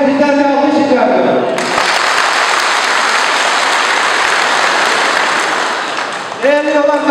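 Loud, dense applause from the audience at a district party congress in Dikmen, filling most of the stretch as a steady wash between bursts of amplified speech at the start and end.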